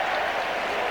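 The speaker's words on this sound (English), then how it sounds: "just listen to the crowd's appreciation of Glenn Hoddle" A football stadium crowd applauds Glenn Hoddle for Spurs, a dense steady wash of clapping and crowd noise, loud and unbroken throughout the short moment.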